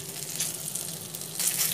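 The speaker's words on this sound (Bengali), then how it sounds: "আমার বেগুনগুলো ভাজা হয়ে গেছে" Eggplant fries in oil with a soft, steady sizzle, close and moderately quiet, brief and without speech.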